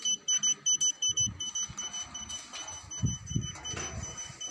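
Repeated electronic beeps from a signal tracking device, a quick run of evenly spaced pulses at the start and then steady tones, with rumbling handling noise and a voice underneath.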